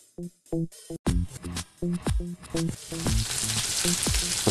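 Shallots frying in a hot pan on a gas flame for a chicken paupiette dish, with a steady sizzle and crackle under repeated sharp utensil clanks and scrapes against the pan.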